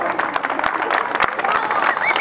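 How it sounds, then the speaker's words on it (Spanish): A crowd applauds at a quinceañera celebration, dense clapping mixed with crowd noise and a few sharp louder claps, while music or a voice rises faintly underneath. "Vamos a recibirlos, por favor, familia, con un fuerte aplauso."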